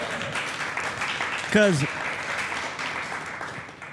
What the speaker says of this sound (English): Give him a round of applause for that